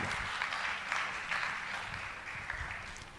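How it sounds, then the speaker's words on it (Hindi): Audience applause at a Jain religious discourse gathering, a steady wash of clapping from a large crowd sustained for a few seconds at moderate level. "आप लोग जोरदार तालियों से रवि भाई का सम्मान नमोस्तु"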